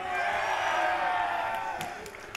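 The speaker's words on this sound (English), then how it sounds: "VSDS have some supporters in the crowd. They're definitely more vocal about it" A live audience at a Rainbow Six Siege esports match at PAX Australia cheers and whoops for the team it supports, a loud roar of voices that swells and then gradually fades.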